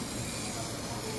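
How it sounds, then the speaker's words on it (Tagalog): An aerosol spray can sends a steady, unbroken hiss of paint onto a painting, close and even throughout with no pauses. "ngayon, mag-spray na ako."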